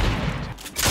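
Pump shotgun blasts in the Fortnite video game, a dense burst of loud gunfire filling most of the short moment and briefly dipping before another sharp report at the end.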